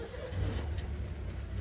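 A car engine cranking and catching as it is started with the customer's own key, a short low rumble heard up close.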